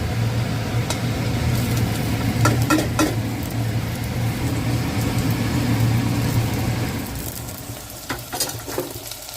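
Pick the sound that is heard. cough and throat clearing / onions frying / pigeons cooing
onions frying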